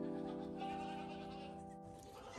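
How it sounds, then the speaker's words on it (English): Goats bleating, one drawn-out wavering bleat held steadily and then tapering, moderately close and fairly quiet with no talk over it. "Nah, look at the goats though."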